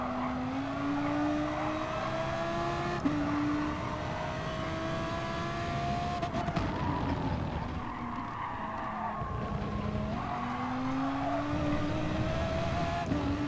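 Gr3 race car lapping Circuit de Catalunya in Gran Turismo Sport, a steady loud engine drone with rising and falling gear-change pitches and sustained tire squeal through the corners, no talking.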